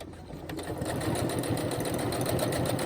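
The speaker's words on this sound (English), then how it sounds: "So I go forward, and then to secure it, I will go backwards just a couple of stitches" A sewing machine stitches ribbon onto webbing for a key fob, running steadily forward and back in a close, continuous mechanical whir with a rapid needle rhythm, no voices.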